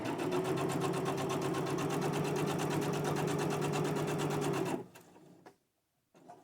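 A sewing machine stitching around a fabric envelope runs in a steady, close mechanical whir for several seconds, then stops abruptly, followed by brief handling clicks and quiet.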